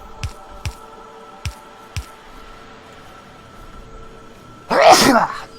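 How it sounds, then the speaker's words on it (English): A single loud, explosive sneeze bursts out near the end, preceded by a few soft thumps and clicks over a low background hum. "you can probably still hear me sneeze"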